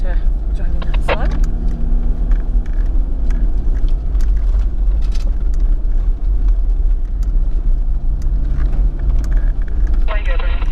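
A 4WD vehicle creeps slowly along a forest track in the Goulburn state forest in Victoria, its engine rumbling loud and steady from inside the cab. Brief clunks and a few tonal whines break through the drone.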